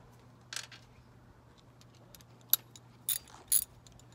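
A 10 millimeter socket ratchet tightens a fastener on a 1990-1995 Toyota 4Runner headlight, giving a few short, quiet metallic clicks and rattles scattered over a faint background hum.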